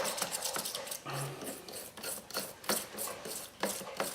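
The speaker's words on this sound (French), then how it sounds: "On continue de frotter dans l'eau" A toothbrush scrubbing a painted metal part in water to strip the paint, repeated close rasping strokes in an irregular rhythm, fairly quiet.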